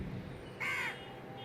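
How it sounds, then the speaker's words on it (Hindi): A single crow caws once, loud and close, in a quiet morning setting, a short harsh call lasting about a quarter second against faint background hum. "हाँ, कोई कौवा आ गया भाई।"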